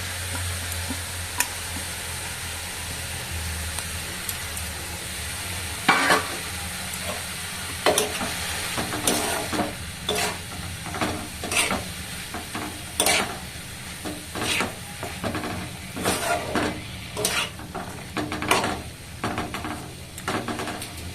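Dalia (broken wheat) and moong dal fry and sizzle in a pan, a steady hiss broken by repeated scraping strokes of a spoon stirring at a close, even pace.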